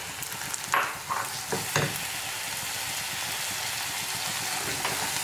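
Chopped tomatoes hit hot oil in a pan for a Goan chicken vindaloo, bursting into a loud steady sizzle with a few sharp spatters and stirring scrapes near the start, then a continuous close frying hiss.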